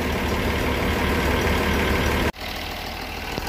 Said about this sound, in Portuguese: Aqui o motor funcionando